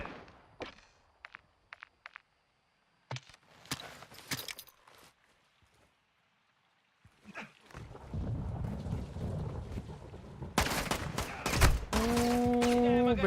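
Call of Duty: Modern Warfare 2 (2022) firefight: scattered sharp gunshots and footsteps at first, then a heavy, loud burst of sustained gunfire and explosive blasts, with a voice briefly heard.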